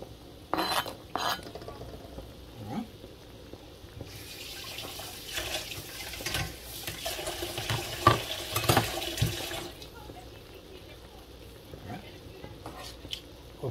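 Soft scraping and clinking of a utensil stirring cut carrots in a pot of Bahamian steamed conch, with bubbling and running-water sounds, fairly quiet and close.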